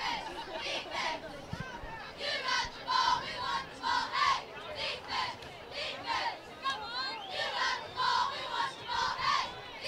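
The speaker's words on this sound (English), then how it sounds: "Cheerleaders here at Lakeshore cheering for a turnover here before half." Cheerleaders and crowd at a Lakeshore high school football playoff game, quarterfinal against Bastrop, chanting and yelling in rhythmic bursts over a steady hubbub of chatter from the stands.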